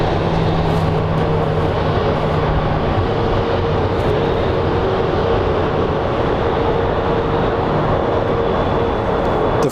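A Southwest airliner begins to taxi at Phoenix Sky Harbor, its engines giving off a loud, steady broadband roar that stays constant throughout, with no talk.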